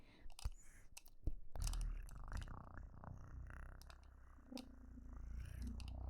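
A voice imitating a cat's purr close into sensitive ASMR microphones, a low rumbling flutter that follows a few sharp clicks and taps, then continues soft and steady for several seconds.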